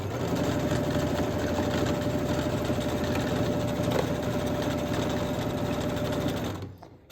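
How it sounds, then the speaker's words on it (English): A sewing machine stitches along the edge of a sunglass case, its motor whirring in a steady, close, continuous run for about six and a half seconds before winding down and stopping. "We're going to back stitch to begin, and then just go right along this edge."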